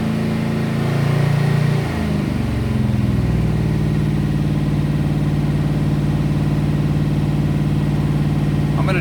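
Close, loud idle of a 327 small-block Chevy built from a 350 block with a 307 crank, running through camshaft break-in; the engine note dips and shifts early, then settles into a steady, even idle.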